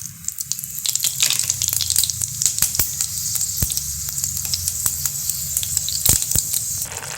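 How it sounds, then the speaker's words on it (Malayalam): Mustard seeds and fenugreek crackle and sizzle in hot oil for a soybean curry, a steady frying hiss broken by sharp pops and spatters throughout, with no talking. "നമ്മുടെ എണ്ണ ഒഴിച്ചിട്ട് എണ്ണയൊക്കെ ചൂടായി. നമുക്ക് കടുക് ഞാൻ ഇച്ചിരി ഉലുവായിടുന്നുണ്ട് കേട്ടോ."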